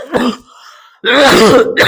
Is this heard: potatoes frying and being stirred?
no